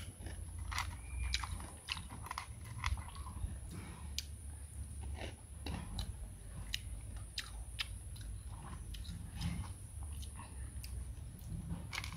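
Close, crisp chewing and biting of crunchy garlic mixed with mango, a steady run of sharp crunches at an irregular rhythm over low background noise, with no talking.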